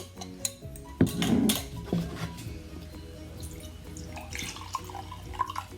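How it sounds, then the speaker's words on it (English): Vinegar poured from a container into a jar for a baking soda experiment, heard as soft splashing and trickling with a few clinks of glass near the start, fairly quiet and close with no talking. "So first what we're gonna do is pour some vinegar into our jar."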